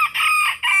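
A rooster crows once, close and loud, a short, bright call that rises, dips and lifts again.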